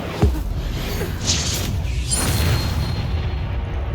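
An Incendio fire spell bursting in Hogwarts Legacy, a sudden loud boom at the start followed by a rumbling, roaring swell that fades over several seconds.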